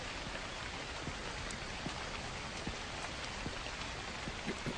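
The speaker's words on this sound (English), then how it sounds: "Kind of loud in the rain." Steady, dense video game rain patters across the whole stretch in the horror game The Convenience Store, with scattered heavier drops ticking through the hiss; no voices.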